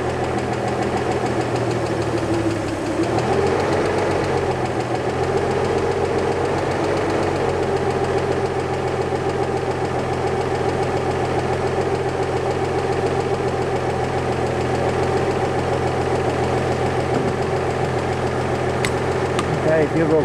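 A 1938 Chevy Coupe Master Deluxe six-cylinder engine idles steadily and loudly with a low rhythmic throb, running continuously for twenty seconds.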